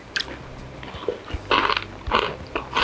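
Crunchy raw vegetables being bitten and chewed up close, a few sharp loud crunches spaced out between quieter chewing, with no talk.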